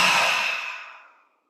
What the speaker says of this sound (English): Now again, slowly deep breathing in again.